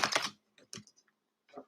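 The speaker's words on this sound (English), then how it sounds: "I try to remember not to slam my cards down on the table because it's so loud." Tarot cards slapped down onto a table in a few sharp, separate hits with short quiet gaps between them, close and fairly soft.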